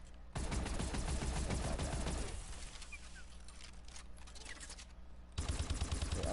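Heavy gunfire from a combined LMG and shotgun weapon in Advanced Warfare, a dense continuous burst that eases slightly in the middle before resuming loudly near the end, with no talking.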